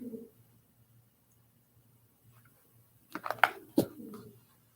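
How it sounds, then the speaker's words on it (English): A loud pigeon coos just outside a back window, several throaty bursts arriving near the end after a quiet stretch with a faint low hum. "That is a loud ass pigeon in my back coming. His noise is coming in from my back window."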